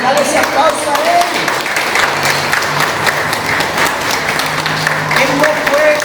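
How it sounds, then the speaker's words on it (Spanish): Applause from a church congregation fills the room as a dense, steady patter of many hands that runs throughout, with some voices mixed in beneath it. "Dale ese aplauso a Él."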